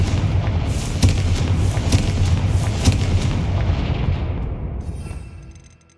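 Rumbling magical blasts from the Confringo fire spell in the video game Hogwarts Legacy, a heavy continuous barrage of booming explosions with sharper cracks on top, fading away in the final second.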